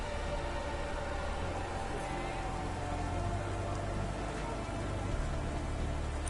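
Steady rainfall in the Cloudpunk video game, a soft, even hiss of rain on surfaces with a faint low hum beneath, constant and unbroken throughout.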